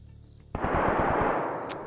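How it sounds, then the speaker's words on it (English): Gunfire in the DayZ video game, with a sudden burst of rapid shots starting partway through that stays loud and dense, like sustained distant automatic fire echoing near a prison. "Dude, I've been hearing the gunshots."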